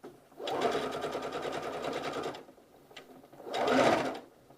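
Sewing machine running two bursts of stitching along a side seam pocket on a garment, a long steady whirring run, a short pause, then a second shorter burst, close and alone.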